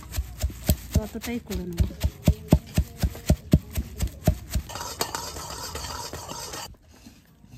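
A flat grinding stone crushes roasted sesame seeds inside a polythene bag, about sixteen rhythmic close thumps followed by gritty scraping, while someone talks.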